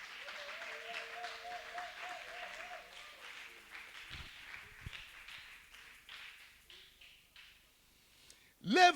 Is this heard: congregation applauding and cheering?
yes